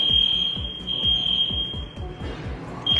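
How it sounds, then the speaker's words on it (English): A fire alarm or smoke detector beeps with a continuous high-pitched tone, briefly interrupted, over regular rhythmic rubbing or scraping strokes nearby. "There's a fire alarm going on,"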